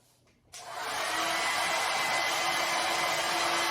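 An inexpensive Confu hair dryer switches on after a brief quiet moment and blows steadily at full power, a loud, constant whooshing roar with a faint whine.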